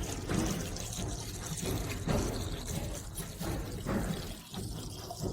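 Water is poured from buckets in a steady rushing splash that runs through the whole stretch with a few surges, fairly close and loud, with no talk over it.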